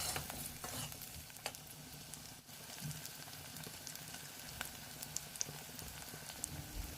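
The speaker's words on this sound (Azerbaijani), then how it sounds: "Doğradığım kartofları da ətlə soğanın üzərinə əlavə edib biraz qovururam" Diced potatoes fry with meat and onion in a pan, giving a soft, steady sizzle with scattered stirring scrapes and light ticks, fairly faint and with no talking.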